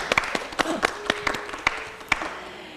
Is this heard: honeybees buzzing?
no